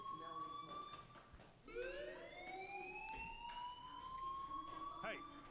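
A fire alarm wails in the Life is Strange video game, its rising siren tone sweeping upward and holding loud and clear for several seconds over soft background sounds.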